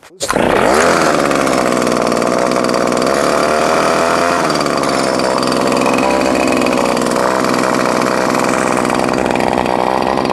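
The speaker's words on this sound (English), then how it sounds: "After starting the engine and letting it warm up for a couple minutes" A Shaw backpack drill's small two-stroke engine roars loudly and steadily after starting up, with a high buzzing drone that holds throughout.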